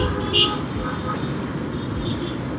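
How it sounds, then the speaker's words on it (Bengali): Night traffic on a Dhaka street in heavy rain: a steady wash of passing vehicles with a short horn toot, the low road roar continuous and fairly near. "So traffic and rain."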